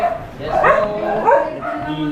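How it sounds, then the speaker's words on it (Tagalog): A dog close by gives two sharp, yelping barks about half a second apart, then falls quiet. "May aso"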